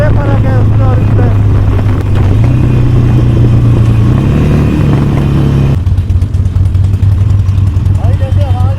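A Kawasaki ZH2 or Harley-Davidson Fat Boy motorcycle engine revs close by, its deep, steady drone climbing in pitch in steps before dropping back. Voices are heard over the engine throughout.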